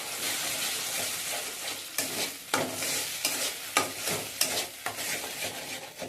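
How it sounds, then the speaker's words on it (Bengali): A spice paste, with black cumin seeds added, is stirred and fried in a pan. A bright steady sizzle runs throughout, broken by repeated scraping strokes of the spatula at an uneven rhythm. No one speaks. "এবারে আমি এটাকে নেড়ে চেড়ে ভালো করে ভেজে নিচ্ছি।"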